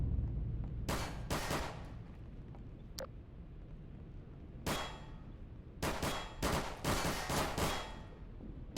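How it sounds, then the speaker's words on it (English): Gunfire in the shooter game Half-Life 2: Episode 3 comes as sharp, clanging bursts, some single and some in rapid clusters, set against a steady low game rumble. "Wow, this guy's bad at shooting."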